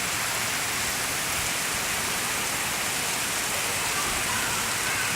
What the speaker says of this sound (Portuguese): A chuva em Camocim.